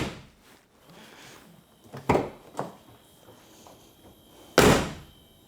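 Doors of a BMW E46 M3 with a swapped Imola Red interior shut with sharp thunks, two close together then a louder slam a couple of seconds later, each standing alone against quiet background.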